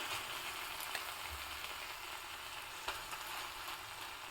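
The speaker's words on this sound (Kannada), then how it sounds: "ಈಗ ನಾನು ಸ್ಟವ್ನ ಸಿಮ್ಮಲ್ಲಿ ಇಟ್ಟಿದ್ದೀನಿ ಇದಕ್ಕೆ ಇವಾಗ ರೆಡಿ ಮಾಡ್ಕೊಂಡಿರೋ ಬಿಸಿ ಬಿಸಿ ಅನ್ನವನ್ನು ಹಾಕ್ತಾಯಿದ್ದೀನಿ" Hot cooked rice tipped into a pan on a low flame, giving a soft, steady sizzle with faint scraping and stirring clicks, quiet and close.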